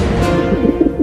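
A pigeon held by a cat gives a short, soft, throaty coo, heard close and clearly over about a second.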